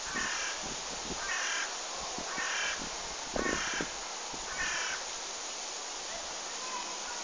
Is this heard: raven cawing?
yes